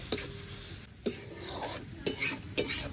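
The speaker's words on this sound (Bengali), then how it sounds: "এবারে বেশ ভালো করে মশলাটা কষাতে হবে।" A spice paste of salt, turmeric, coriander powder and red chilli powder is stir-fried with tomatoes in a pan. A soft sizzle runs under four sharp scraping stirs spaced about half a second to a second apart, and nobody speaks.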